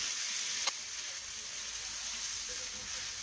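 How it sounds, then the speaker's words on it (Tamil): Onion and tomato sauteing in a pan, heard as a continuous, even hiss of sizzling oil with one small click near the start, close and fairly quiet with no talking. "இந்த தக்காளி பழம் குழையிற அளவுக்கு இதை வதக்கிக்கலாம்."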